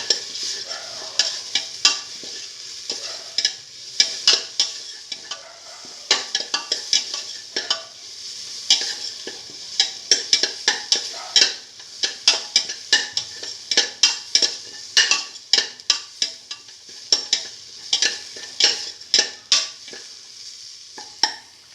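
A spoonful of spice mixture fries for a beef and eggplant bowl, a soft continuous sizzle under sharp, regular scraping strokes of a utensil stirring across the pan, close and steady with no voices.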